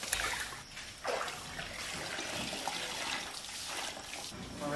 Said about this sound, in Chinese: 放温水里面泡一下， 那个温水洗一下，